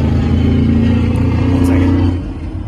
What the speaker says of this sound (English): that Kenworth sounded awesome, but it really screwed with the audio. It was loud